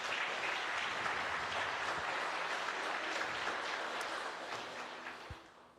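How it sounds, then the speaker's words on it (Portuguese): A church congregation applauds together during a sermon, the dense clapping filling the room steadily before tapering off near the end. "Vamos aplaudir o Senhor por essas vidas?"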